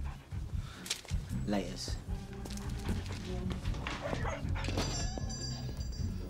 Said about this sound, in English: It's only a fucking dog.